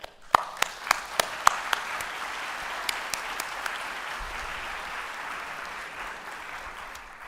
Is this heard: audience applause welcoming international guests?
yes